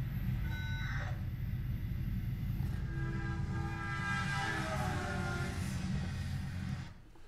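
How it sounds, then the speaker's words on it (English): A passing train rumbles steadily while its horn sounds in long, shifting tones, noisy and echoing, before the sound drops off at the end. "What did you notice about the sound of the train horn?"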